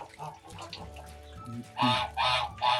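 A young Kholmogory goose, about five and a half months old, honks in a few loud, close, nasal bursts that follow quieter fowl murmurs and a low background hum.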